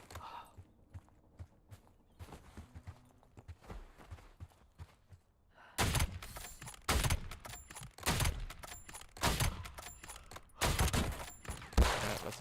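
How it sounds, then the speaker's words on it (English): Gunfire in Call of Duty Black Ops 7 Blackout Royale, a series of sharp loud shots in the second half following quieter movement and ambient game noise, with irregular spacing between bursts. "Somebody just shot at me."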